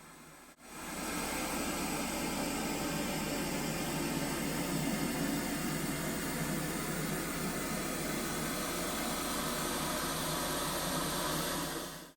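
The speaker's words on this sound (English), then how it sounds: "I use this pink noise that basically alternates a high pass filter noise between left and the center speaker on a regular basis" Steady broadband pink noise test signal played through home theater speakers, alternating between the left and a Bowers & Wilkins 700 Series center speaker; a continuous, even hiss lasting the whole stretch after a brief dip at the start.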